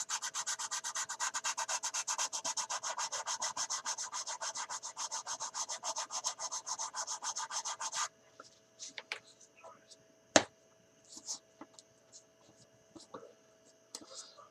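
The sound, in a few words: sanding a model kit with wet/dry sandpaper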